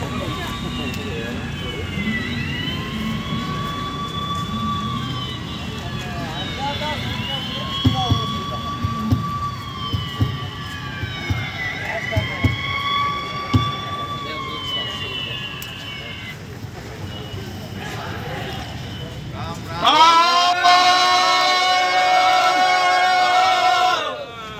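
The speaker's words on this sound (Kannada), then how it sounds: "ಕುಂದಾಪುರ ಕಡೆ ಆಂಬುಲೆನ್ಸ್ ಹೋಗುತ್ತೆ." An ambulance siren wails in repeated rising and falling sweeps as it passes on a road in Uttara Kannada, heard over crowd noise and talk, then a louder, harsher burst near the end.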